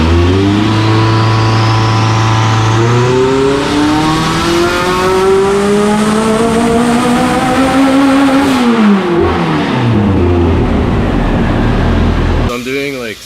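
A 700-horsepower Saab time attack car revs hard on a dyno, its engine note climbing and falling through a long power pull. The roar stays loud and close throughout, then cuts off abruptly near the end.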